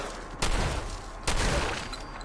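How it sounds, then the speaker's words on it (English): Two sharp gunshots ring out in Fallout 4, spaced about a second apart, each a sudden booming crack that decays into a rumbling tail against quiet game ambience. "Even gunshots."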